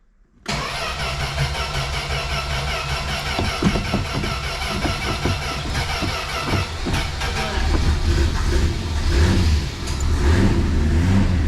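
A Plymouth Valiant that has sat unused for 18 years cranks and catches abruptly, then runs with rough, uneven revving and surging engine noise close by throughout.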